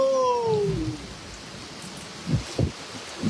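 Soft, steady rain falling with a faint rushing hiss, a few scattered thumps near the end, and a brief high tone fading out at the start.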